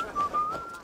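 A short two-part whistle in Assassin's Creed Valhalla, a thin steady tone rising slightly at the end, fairly quiet and alone.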